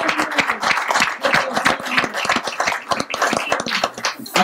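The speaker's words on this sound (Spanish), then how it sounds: "Para Rudy, me gustaría otro aplauso" A political talk gathering in Constanza gives a loud burst of crowd applause with dense, rapid overlapping claps that carry steadily for several seconds.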